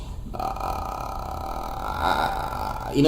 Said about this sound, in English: That sound is what we call grunt.